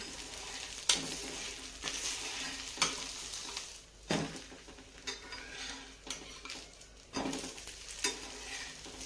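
A dosa fries in oil drizzled around its edges on a pan, its soft sizzle broken by several sharp clanks and scrapes of a spatula stirring and scraping the pan, with no talking.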